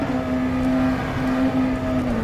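The engine of a McLaren Senna GTR race car in the rFactor 2 racing simulator drones at a steady high pitch throughout, loud and unbroken, with no talk.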